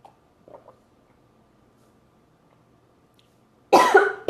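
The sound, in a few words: coughing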